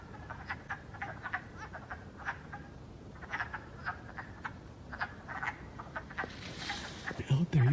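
Breeding frogs call in a steady outdoor chorus, repeated short croaks overlapping at mid distance over a low rumbling background, with a brief louder rustle near the end.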